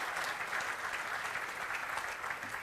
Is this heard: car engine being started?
no